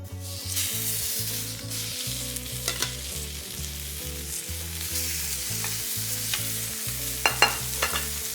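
Meat sears in a hot de Buyer Prima Matera copper pan, giving a steady, loud sizzle with a few sharper crackles and stirring clicks. Soft background music plays underneath.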